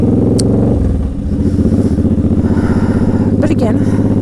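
A motorcycle engine drones loud and close during a ride, with a steady pulsing rumble and a brief dip in throttle partway through, while a rider talks over it.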